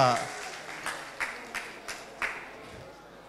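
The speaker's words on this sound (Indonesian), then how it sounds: "Ya tepuk tangan dong." A few scattered handclaps from an audience at a campus orientation session on a communication studies laboratory, faint and sparse, with about five separate claps spread across a quiet room.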